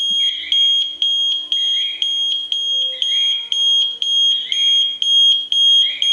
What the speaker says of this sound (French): quand l'alarme est mise, bon, déjà elle sonne